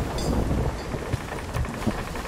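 A game storm at sea between two hurricanes roars with dense wind and rain noise and low rumbling thunder, loud and continuous throughout, with no voices.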